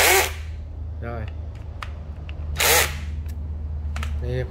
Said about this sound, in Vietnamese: Này khoan búa nha các bác,